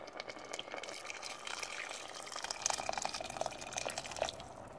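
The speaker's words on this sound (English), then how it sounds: "Now I'll add in some boiling water." Boiling water pours from a kettle into a pot of minced beef and vegetables in a thermal cooker, a fairly faint, steady splashing gush with small drips.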